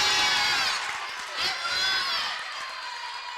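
Crowd at a women's college basketball game in Canal Arena, CBU against Delta State, cheering and whooping after a made layup, a sustained roar that swells briefly midway, with shouting voices mixed in.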